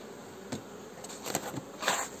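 Buckfast honeybees hum around an opened nucleus hive during a spring inspection, a faint steady buzz with individual bees passing close in brief louder swells.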